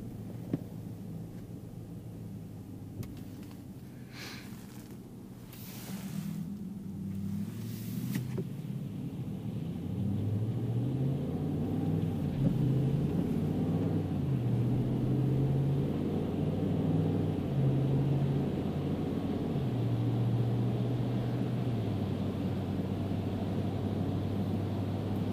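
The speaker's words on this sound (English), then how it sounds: "The road noise is pretty good in the trucks as well." Inside a 2017/2018 Ram 1500 pickup truck at highway speed, a low steady rumble of road and engine noise fills the cabin, well muffled and continuous, rising slightly as the drive goes on, with a few brief clicks early on.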